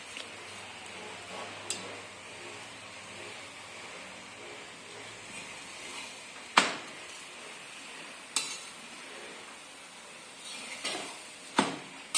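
Methi paratha roasting on a hot pan, a soft, continuous low sizzle broken by a few sharp scrapes and taps of a utensil against the pan, with no talking.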